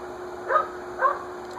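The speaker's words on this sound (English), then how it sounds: "Casey's barking" A dog named Casey barking indoors in a garage, two short muffled barks over a steady fan hum.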